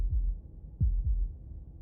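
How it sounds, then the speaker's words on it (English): Slow heartbeat in the video game Slay the Princess: three deep, muffled low thuds spaced unevenly under a steady low hum, close and fairly quiet, with no other sounds. "That was the sound of a heartbeat"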